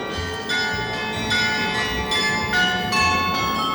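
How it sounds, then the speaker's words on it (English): Clock tower bells in London ring out in sustained, overlapping church-style peals, each new strike blooming over the lingering hum of the last, loud and resonant. "Still rings its bells today."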